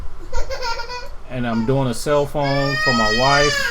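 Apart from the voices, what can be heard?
baby crying in the background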